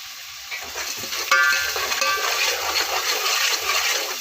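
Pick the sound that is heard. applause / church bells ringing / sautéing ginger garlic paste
sautéing ginger garlic paste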